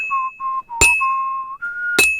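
Slower blacksmith hammering in Kingdom Come: Deliverance 2, two bright ringing anvil strikes over a second apart, with a character whistling a steady melody throughout.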